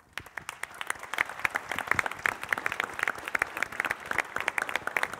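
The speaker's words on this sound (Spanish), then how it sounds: "renovamos este aplauso para los héroes de la patria" Audience in a provincial legislative chamber in Santa Fe applauds at a recognition event honoring Malvinas veterans, a dense, steady round of clapping that builds quickly and sustains at moderate distance with no talk over it.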